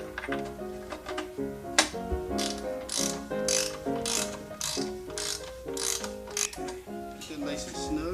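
Rapid mechanical clicking of a ratchet tightening bicycle bottom bracket cups in a workshop, in repeated close bursts of quick pawl clicks.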